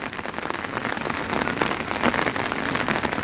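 Heavy monsoon rain pours down steadily in Shimla, a dense, loud hiss of drops pattering on hard surfaces that stays constant throughout.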